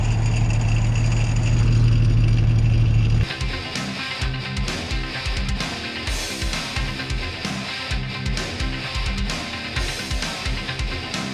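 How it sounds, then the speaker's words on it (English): Loose leaf spring shackles drag and scrape beneath a 1967 Plymouth four-door as it rolls, giving a continuous rhythmic metallic clatter up close after an idling engine drone cuts off. "Oh, that's just the shackles underneath dragging"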